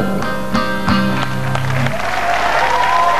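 Applause from a concert audience after a song, a loud, sustained burst of clapping with tonal sounds and voices fading beneath it.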